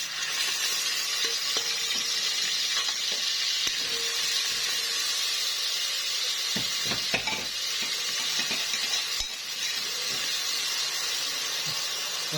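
Garlic frying in oil for Egyptian koshari sauce, a steady bright hiss and sizzle carrying on without a break, with faint clinks and scrapes of the spoon scattered across it and no talk.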